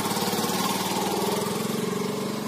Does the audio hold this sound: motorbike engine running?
yes